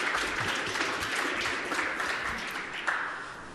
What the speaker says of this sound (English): One more round of applause for Rox.